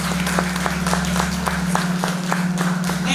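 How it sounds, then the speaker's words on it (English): A crowd of parents applauding at a pre-K graduation, steady clapping with a low hum running underneath. "Give yourselves a round of applause, parents."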